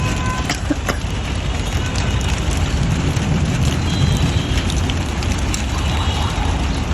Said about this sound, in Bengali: বৃষ্টিও শুরু হয়ে গেছে বৃষ্টিও পড়তেছে